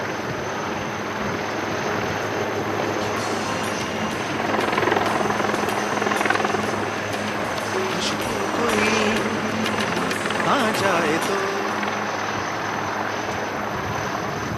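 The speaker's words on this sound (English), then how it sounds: "The Rudras are being flown by Lieutenant Colonel Vinay Hoon and Lieutenant Colonel Matthew Cherian of 253 Army Aviation Squadron." HAL Rudra attack helicopters of the Indian Army fly a display at the Aero India 2019 air show, a steady loud rotor and turbine roar that swells in two waves as they pass overhead.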